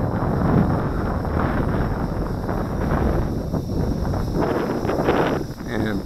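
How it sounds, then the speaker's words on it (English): Strong wind buffets the microphone outdoors on a gusty day while a small remote-control plane is flown, a constant loud roaring rush with no break across the whole stretch. "The wind's picking up even more."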